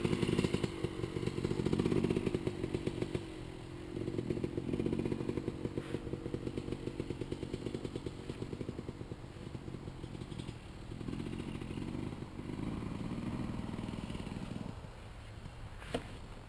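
A dirt bike motorcycle ridden on old trails while the rider attempts wheelies, its engine droning steadily with revving surges and rattling clatter, close by throughout.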